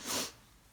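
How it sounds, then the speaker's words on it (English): One short, breathy, hissing burst of a single sneeze, close and sharp, fading quickly into quiet. "Had to sneeze."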